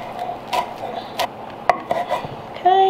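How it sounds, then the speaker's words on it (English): A knife cuts through a rolled pile of fresh basil leaves on a board, sharp separate chops with short gaps between them, close and clear, with no talking. "take the whole pile and cut it once this way"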